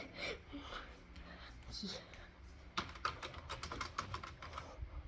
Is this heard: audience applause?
no